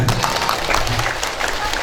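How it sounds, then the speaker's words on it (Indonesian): Indonesian audience at a religious study gathering clapping hands together, a dense steady patter of applause filling the short span with a voice faintly mixed in. "Ya, tepuk tangan."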